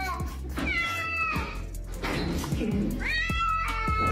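A cat meows twice, loud and close, with drawn-out, wavering cries around a short pause, with faint background noise between them.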